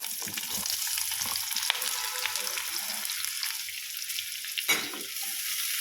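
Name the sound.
frying coriander seeds, chilies and rice in oil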